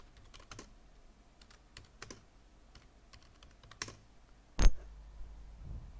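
Soft keystrokes on a computer keyboard type an idea into a mind-mapping program, sparse and quiet, ending with one louder key tap.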